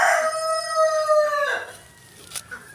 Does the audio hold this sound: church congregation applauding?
no